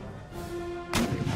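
A cannon shot in the Empire Total War strategy game: a broad, loud burst arrives near the end after a steady backdrop of game music and battlefield rumble, and a single heavy report rolls out.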